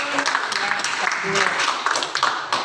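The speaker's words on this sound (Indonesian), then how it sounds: "Aplaus untuk Pak Dino." A classroom group claps for a teacher during a numeracy teaching-practice lesson, a dense, moderate patter of applause that runs throughout with voices talking over it.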